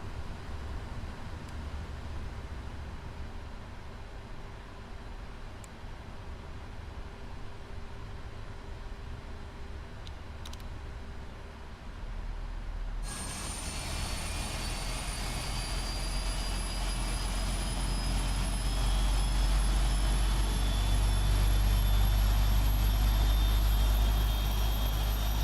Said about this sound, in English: And we'll start engine number 2.